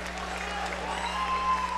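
Crowd at an MMA event applauding as a bout goes the full distance and awaits the judges' decision, a steady wash of clapping and crowd noise at moderate distance with a low hum beneath.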